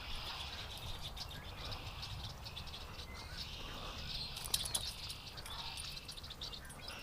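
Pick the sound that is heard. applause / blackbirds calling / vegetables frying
blackbirds calling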